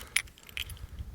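A set of keys for a Hummer H2 4x4 truck jingles briefly, with two bright metallic shakes over a low background rumble outdoors.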